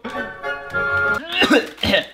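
A single person coughs a few times in quick succession, close and fairly loud, with a short vocal sound before it.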